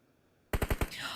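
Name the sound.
explosions in a video game battle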